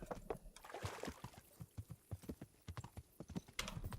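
Video-game horse hooves from Kingdom Come: Deliverance clip-clop in a steady, close, rhythmic gait, each footfall crisp and evenly spaced, with no talk over them.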